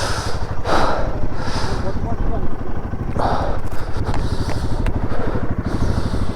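A motorcycle left out overnight in deep snow on the Himalayan Shinkhula Pass idles with a steady thumping beat after a self-start, close and fairly loud, while breathy gasps and wind gusts come and go over it.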